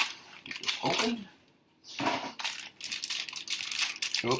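A bag of brown sugar is pulled and crinkled open in a home kitchen while someone cooks brisket, with short rustling bursts that stop briefly and then return in quick crackly handling noises.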